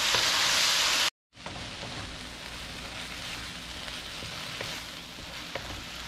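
Long beans sizzle and fry with soy sauce in a hot pan, a loud steady hiss that cuts out for a moment and then resumes slightly quieter, without speech.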